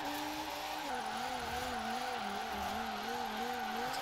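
A Ford Mustang RTR drift spec with an 1800 hp engine in Forza Horizon, held in a long continuous drift: wavering, sustained engine and tire-squeal tones that dip and rise steadily, loud and unbroken.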